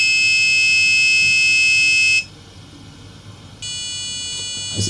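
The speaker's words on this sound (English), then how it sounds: "the brightness and the sounding of the buzzer also has reduced" A buzzer on an Arduino Uno, driven at reduced analog-write level, gives a steady high electronic tone that cuts out briefly and then resumes, fairly loud and alone.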